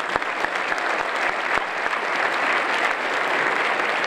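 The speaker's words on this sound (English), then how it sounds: "I want to hear all of you to applaud with great enthusiasm all the promoters, partners, and sponsors who are with us tonight" Applause from an audience at an awards gala: a sustained, dense wash of clapping with a few sharp individual claps standing out near the start.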